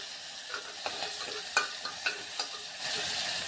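Spice masala with green chilies sizzles and fries in a pan, with soft stirring scrapes and small crackles throughout, close and steady with no talk.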